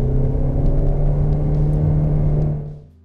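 Skoda Octavia Scout car engine while driving, heard as a steady, close rumbling drone with a strong low hum inside the cabin. The sound fades out in the final moments.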